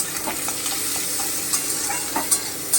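Chopped onion frying in a pan after garlic, a close steady sizzle broken by quick scraping stirs and light taps of a spatula.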